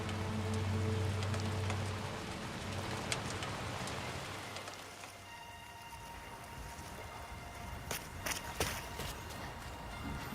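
Rain falls steadily in the video game Death Stranding 2, a dense, even hiss of drops on surfaces, with a low humming drone underneath for the first couple of seconds and a few sharper splashes near the end; no one speaks.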